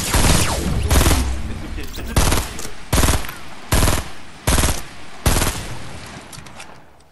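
Automatic gunfire in the video game Fortnite, played on a PS4: loud rapid bursts, several of them in quick succession separated by brief gaps, close and dominant.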